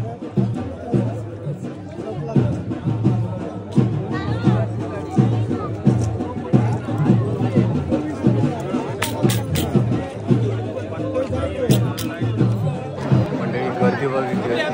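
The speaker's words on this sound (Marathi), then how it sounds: "मंडळी गर्दी बघितली" Dense crowd chatter fills a village festival procession at Achara during the Dalapswari celebration, a steady loud babble of many voices with shuffling footsteps and occasional sharp clicks throughout.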